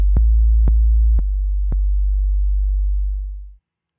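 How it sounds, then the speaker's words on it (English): Deep trap 808 bass tones played in Logic sound as four evenly spaced thumps, each with a sharp click at the start, followed by a long sustained low hum that fades out. "you might not be able to hear these bass tones"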